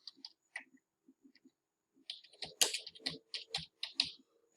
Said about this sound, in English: Type in my message.